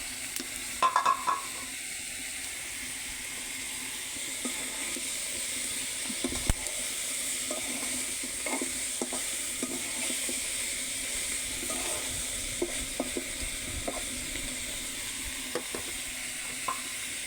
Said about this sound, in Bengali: এখন ঢাকনাটা তুলে একটু নেড়ে নিব, দেখি কি অবস্থা